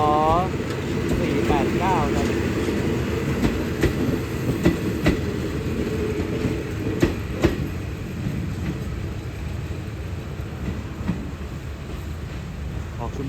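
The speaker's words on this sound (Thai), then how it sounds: "ส่งแล้วครับขบวน 447 ครับ รถท้องถิ่นที่มีระยะทางในการให้บริการ ไกลที่สุดในประเทศไทยครับ" Thai local train number 447 rolls out along the railway, a loud continuous rumble with rhythmic wheel clicks and rattling cars up close, with a voice briefly heard at the start.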